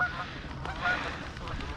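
Geese honking out on calm lake water, a few faint, distant calls over a soft outdoor background.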